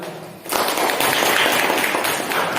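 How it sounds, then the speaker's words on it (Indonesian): A classroom group bursts into applause, starting abruptly and holding as a dense, steady wash of clapping that lasts a couple of seconds. "Ya, tepuk tangan."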